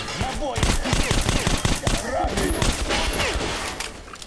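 Rapid gunfire from the video game Metro: Last Light, dense bursts of automatic shots crackling loudly and continuously with scattered impacts, close and busy throughout.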